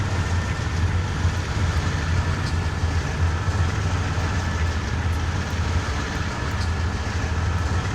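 Diesel locomotive engine held at full throttle in Train Simulator 2019, a CN/IC Blue Devil heading a grain train on Marias Pass, giving a steady, heavy low rumble with a constant drone that runs unbroken throughout.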